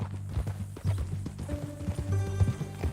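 Horse hooves clip-clop in Red Dead Redemption 2, a close, irregular patter of several quick hoofbeats with a faint low hum beneath.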